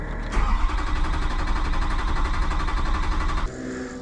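A truck camper's engine runs steadily at idle, a continuous mid-range rumble that drops and changes character near the end, with no voices over it.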